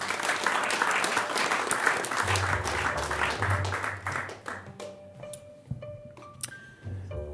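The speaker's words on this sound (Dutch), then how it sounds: "Geef haar een hartelijk applaus." Steady audience applause for a harpist at a music café show, dense and full for about four seconds, then thinning into scattered claps over a quiet room with a faint clink of glass.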